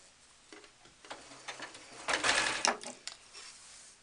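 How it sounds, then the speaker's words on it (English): A sewing machine stitches along the tie of a doll's skirt in short bursts of close mechanical ticking, pausing between runs and building to a faster, louder run near the end, with no talk. "Once you get to the other edge of the skirt, keep going along the tie until you get to the end."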